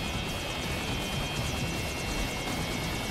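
Helicopter in Metal Gear Rising: Revengeance hovers close and loud, its rotor chopping in a fast, steady beat over a constant engine whine with no pauses.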